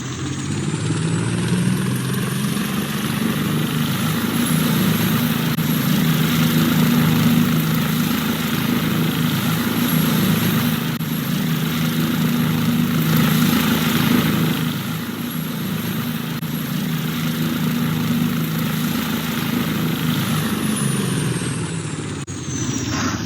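Radio-controlled model helicopters start up and run one after another, a loud steady engine and rotor drone holding close and continuous throughout, with no talking.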